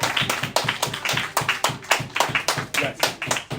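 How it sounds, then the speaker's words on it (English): An audience at an evening talk with a rabbi on conscious dating applauds with steady, rhythmic clapping, close and fairly loud, while voices murmur underneath. "Everyone clap for this wonderful"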